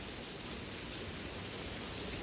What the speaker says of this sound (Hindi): इट्स रेनिंग आउटसाइड और एक जिसको कहते हैं ना बिना हवा के बारिश है।